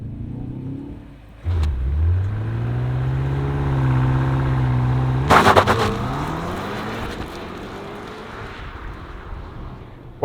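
A 2.5-ton 2025 BMW M5 estate launches hard from a standstill in a 0-60 mph test, the engine roaring up through rising revs before a sharp crackling burst at a gear change, then fading as the car pulls away.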